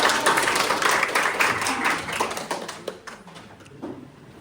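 A classroom of pupils performs a rhythmic clapping chant, their claps landing in quick, patterned bursts that stay fairly loud and close before tapering off toward the end, with faint voices mixed in.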